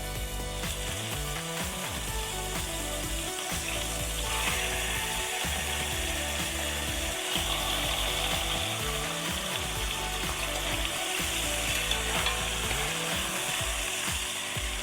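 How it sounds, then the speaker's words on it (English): Chicken sizzles in hot oil in a pot, a steady crackling hiss under irregular clicks and scrapes. "This is the sizzle you want."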